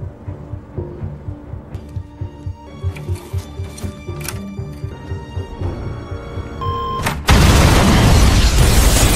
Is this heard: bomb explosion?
yes